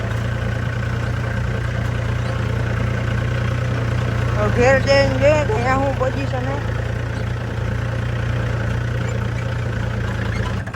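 A tractor's engine runs on a village road, a constant low droning rumble that stays steady throughout while someone talks over it.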